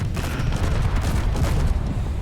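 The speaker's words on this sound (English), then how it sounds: "Somebody's still shooting." Rapid auto cannon gunfire in the space game Space Engineers, a dense steady stream of booming shots pounding without pause through the whole stretch.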